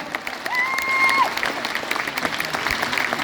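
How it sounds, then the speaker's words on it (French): Louder applause rises for André Limousin at a Miss Corso gala in Firminy, a crowd clapping steadily with a whistle-like sustained tone early on, then scattered claps continuing at moderate volume. "j'aimerais qu'on fasse un tonnerre d'applaudissements à monsieur André Limousin"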